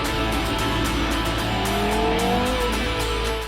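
A Porsche Carrera GT supercar driven fast, its engine roaring loudly and continuously with a rising, straining tone and no voices.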